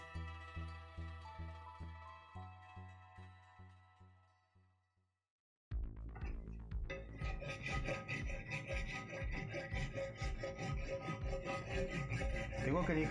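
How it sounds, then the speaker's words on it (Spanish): Rhythmic scraping strokes of a wood file rasping plaster on a sculpture, loud and close, following a series of regular tonal ticking pulses and a brief silence. "Tengo que lijarlo con esta lima, ¿vale? Es una lima de madera"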